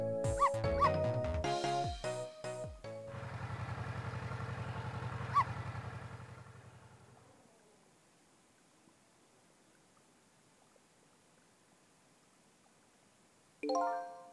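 Small dog barking in the Ghost Trick video game, a quick burst of yips and whimpers up front over game music, then a fading drone, near silence, and a short loud sound at the very end.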